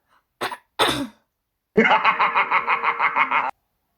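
A voice clears its throat in two short, rough bursts, then launches into an evenly pulsed, rhythmic laugh imitating wrestler Million Dollar Man.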